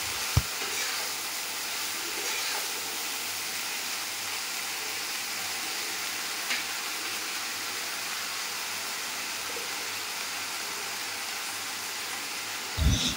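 Dhekia fiddlehead fern greens fry in a pan with a steady, broadband sizzle that holds evenly throughout, with a couple of faint utensil knocks at the start and end.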